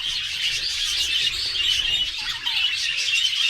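Many birds chirp and twitter continuously in a dense, high chorus, steady and moderately close with no talking.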